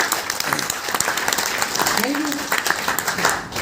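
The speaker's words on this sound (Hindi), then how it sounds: "जोरदार तालियां होनी चाहिए" Audience applause at a business plan presentation, a steady clatter of many hands clapping, with a voice and some crowd noise mixed in over it.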